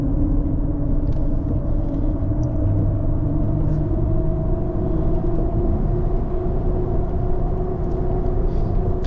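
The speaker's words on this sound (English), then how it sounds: "Believe it or not, the truck still picks up quick, even with these tires on there." A lifted Ram 1500 pickup with a 9-inch lift and oversized tires drives along a road, its steady loud engine drone and tire roar filling the cabin continuously with no break.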